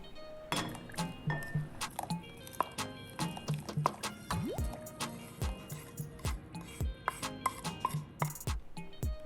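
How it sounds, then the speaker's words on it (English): Soft brown sugar being stirred into hot water in a bowl for a chocolate fudge pudding, with steady rhythmic clinks of a utensil against the bowl, quiet and close, repeating throughout. "We're just going to mix that together. Should dissolve into the water quite readily."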